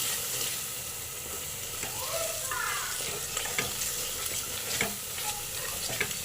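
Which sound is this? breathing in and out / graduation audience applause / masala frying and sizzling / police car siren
masala frying and sizzling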